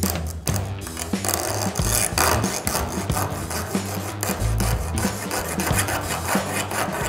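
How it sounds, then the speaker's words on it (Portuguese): A hand saw cutting off excess from a wooden fingerboard skateboard deck, heard as continuous rasping, rubbing strokes at close range over a constant mechanical hum. "Então vou cortar aqui o excesso com a serra e depois dar acabamento com a lixa."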